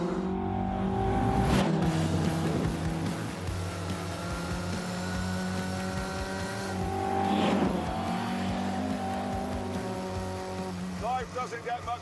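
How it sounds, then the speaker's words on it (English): A Mark 1 Lotus Cortina runs fast around the Cadwell Park circuit on a sunny day, its engine a steady droning note with brief surges as it is driven hard. "Cadwell Park, sunny day. Mark 1 Lotus Cortina. This thing is a riot."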